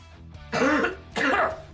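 Two loud, close, rasping coughs from a person, each lasting about a third of a second and separated by a short pause.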